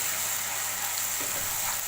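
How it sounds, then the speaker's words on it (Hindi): Ginger, garlic and green chili paste hitting golden fried onions in hot oil for dhaba-style chana masala, giving a steady, close sizzle that runs unbroken for a couple of seconds with no talk. "प्याज गोल्डन हो गया, इसमें डाल दूँगी मैं अदरक, लहसुन और सब्ज़ मिर्च का पेस्ट।"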